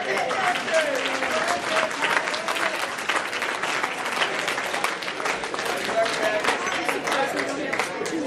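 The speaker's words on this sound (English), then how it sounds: "Let's just give a round of applause." A room of people at a senior breakfast applauding for birthdays, steady close clapping filling the whole stretch, with voices and crowd murmur mixed in throughout.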